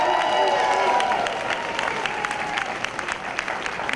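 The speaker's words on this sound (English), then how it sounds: "How about a round of applause for all the volunteers?" Steady applause from a gathered audience for event volunteers at a Senior First Night, continuous dense clapping with scattered sharper claps and a light crowd murmur underneath.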